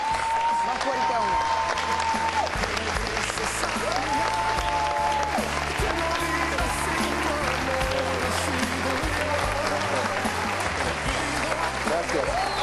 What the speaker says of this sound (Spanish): ndro Díaz, productor de Mañana para Siempre, para quien pido un fuerte aplauso.